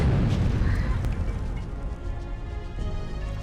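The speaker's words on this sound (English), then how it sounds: "the explosion is hilarious, so I can forgive it" An explosion from Castlevania: Legacy of Darkness, heard as a loud rumbling blast with crackling bursts that slowly fades over a few seconds.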